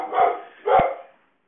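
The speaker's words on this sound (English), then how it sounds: "you might also hear my dog Fergus in the background" Dog barking indoors, two sharp barks in quick succession, fairly close and alone, then quiet.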